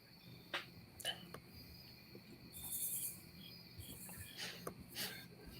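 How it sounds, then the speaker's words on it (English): Crickets chirping outdoors near a large-scale G scale garden railway, a steady high-pitched chorus with a few sharper, louder chirps standing out, moderately faint and heard alone. "All those crickets chirping or Kyle not talking."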